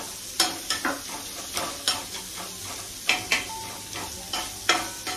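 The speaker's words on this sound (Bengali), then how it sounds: "বাটার দিয়ে পেঁয়াজগুলোকে ফ্রাই করে নিচ্ছি।" Onions frying in butter in a pan with paneer already cooked, a soft continuous sizzle broken by repeated sharp scraping and stirring knocks from a utensil, close up.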